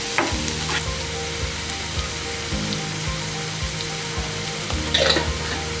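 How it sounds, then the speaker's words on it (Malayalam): Green chillies and curry leaves fry in a pan for a paneer curry, a loud, steady sizzle close up, with soft rhythmic stirring taps underneath and no talk. "ഇതിലേക്ക് പച്ചമുളകും ചേർത്ത് കൊടുക്കാം, കറിവേപ്പില കൂടി ചേർത്ത് കൊടുക്കാം."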